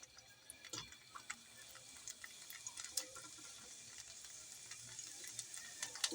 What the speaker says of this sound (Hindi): घी हमारा गर्म हो चुका है। अब हम लहसुन भून लेंगे।